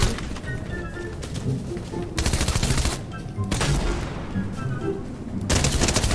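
Shotgun blasts fire in the video game Fortnite, sharp loud bursts repeating in quick succession amid other game gunfire, with a voice talking at times.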